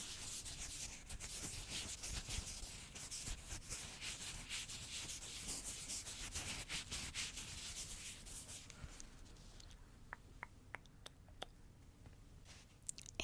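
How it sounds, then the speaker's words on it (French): A cotton pad rubs softly and continuously in a close-up gentle ASMR cleaning, making a steady, quiet brushing and scratching sound that thins out near the end into a few light clicks. "Alors, je vais prendre un petit coton."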